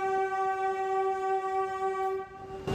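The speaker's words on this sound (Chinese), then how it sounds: "列车奔驰出隧道" A Kolkata metro train emerging from the tunnel under the Hooghly River sounds a loud, sustained horn blast, steady and close, over a low rumble of the moving train, ending with a brief noisy burst.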